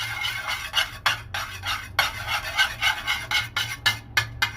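A spoon stirring black pepper into milk in a vessel, a close rhythmic rasping scrape repeated about a dozen times with brief pauses, loud and alone.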